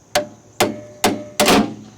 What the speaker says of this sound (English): Give her a couple whacks and run it through its cycle.